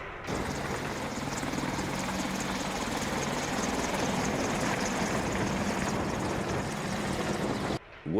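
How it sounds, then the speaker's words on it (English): A Boeing AH-64 Apache Longbow attack helicopter flies with a steady, dense engine and rotor drone, loud and continuous throughout, with no speech over it. "test, and fly the most successful attack helicopter in the world"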